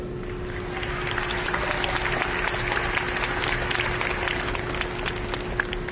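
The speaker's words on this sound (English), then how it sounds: "give yourselves a round of applause for being here today" A crowd at a high school graduation applauds steadily, dense clapping sustained throughout at a fairly loud level with no talking over it.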